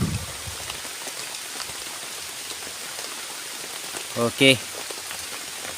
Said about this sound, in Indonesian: Hujannya nggak ada henti-hentinya sahabat.